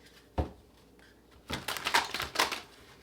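Tarot cards shuffled by hand, a sharp riffle snap followed by a cluster of crisp papery riffles and flicks, close and fairly quiet, no speech.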